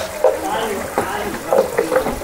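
Water is poured over an elephant during a bath at an elephant camp in Thekkady, Kerala, splashing in short uneven bursts under nearby talking voices.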